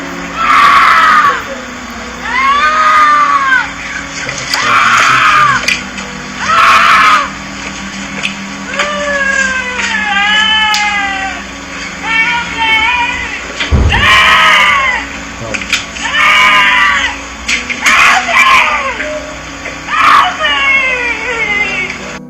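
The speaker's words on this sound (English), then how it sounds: "Why would someone be walking so calmly, yet seemingly screaming in abject terror for help?" A person screams in terror for help in a Japanese video of unknown origin: repeated high, wavering wails and shrieks in separate bursts, loud and close, with background noise and a sharp thump partway through.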